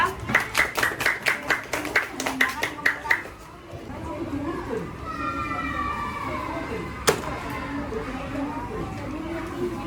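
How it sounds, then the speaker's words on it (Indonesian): A classroom of students claps for a presenting group, a burst of rhythmic hand claps lasting a few seconds before fading into murmuring room chatter and background noise. "tepuk tangan untuk kelompok 2"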